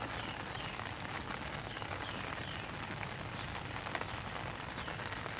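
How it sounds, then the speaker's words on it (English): Steady spring rain patters on surfaces nearby in a garden, an even hiss of drops with no voices. "Always seems like it's quieter in the garden too when it's raining."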